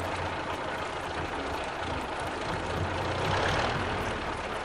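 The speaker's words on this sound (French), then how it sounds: "Son taxi est ancien et aujourd'hui, il fait un drôle de bruit." An old taxi engine makes a strange noise, a steady broadband rumble with a low hum and faint regular ticking on top, staying fairly constant throughout with no talking.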